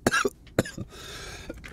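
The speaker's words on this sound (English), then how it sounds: "Please excuse the coughing." Several sharp coughs from one person, close and fairly loud, in short bursts with brief pauses between them and no speech.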